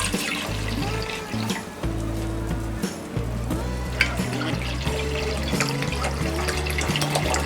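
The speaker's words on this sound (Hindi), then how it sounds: "इस बड़े से वेसल में डालेंगे हम ये पानी।" Water poured from bottles into a large cooking vessel on a gas stove, a steady close gurgling pour running continuously under a soft music bed.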